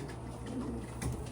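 Soft cooing from young pigeons of the 2025 season, a low murmuring burble that rises and falls close by, with brief fluttery rustles in between and no voices.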